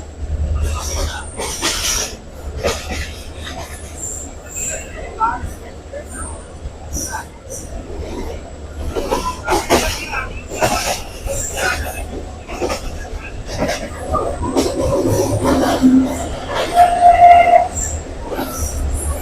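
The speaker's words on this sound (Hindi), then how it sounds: "आपको रेल के चलने से और वीडियो की तेज रफ्तारी से अंदाजा हो रहा होगा कि ट्रेन अपनी पूरी रफ्तार से जा रही है।" A local train from Karachi rumbles and rattles steadily along the track at full speed while a person talks over it, with a brief wheel squeal near the end.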